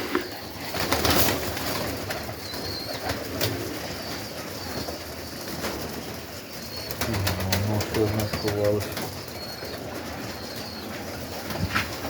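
Pigeons coo in low, repeated murmurs amid a busy outdoor background, with some bird calls and rustling around them.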